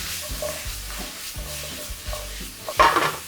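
Garlic cloves frying in a pan for a creamy mushroom and spinach pasta, stirred with repeated soft scraping strokes over a steady low sizzle, ending in a louder clattering stir near the close.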